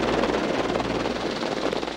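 A helicopter flies overhead above a loch, producing a loud, steady rotor and engine roar with fast, continuous chopping throughout and no voices.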